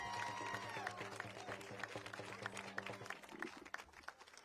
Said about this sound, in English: Give it up for Diallo